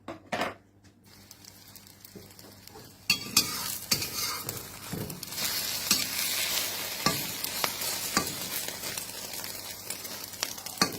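Minced pork frying in a pan with a little water, a sputtering sizzle that swells after a quiet start, broken by clinks and scrapes of a utensil stirring against the pan, close and fairly loud with no talk.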